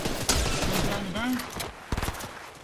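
Rapid bursts of gunfire in the video game Fortnite crackle close by in quick volleys, with a player's voice talking over the shots.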